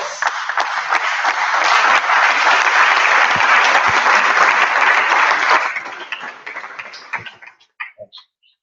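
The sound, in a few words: audience applause for jury and panelists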